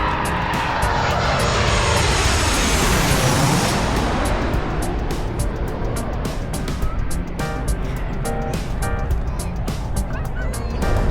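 A fixed-wing airplane roars close overhead near an airport, its broad engine noise sweeping in pitch as it passes, loud and steady throughout while traffic hums underneath.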